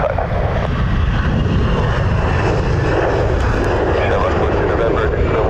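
Aircraft engines roar loud and constant from the north runway at Dublin Airport, a steady broadband rumble with faint voices underneath.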